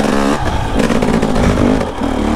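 KTM enduro motorcycle engine revving hard under twisted throttle, a loud, close, continuous buzzing roar with rising and falling pitch and some rattling clatter, heard alone.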